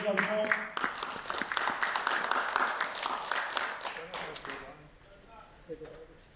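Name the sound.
audience clapping as speaker comes to the stage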